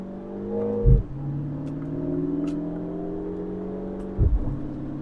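A Mini Cooper JCW convertible accelerating in manual mode on a winding road gives a close engine drone rising steadily in pitch, with two distinct gear shifts marked by a short thump and a drop in revs.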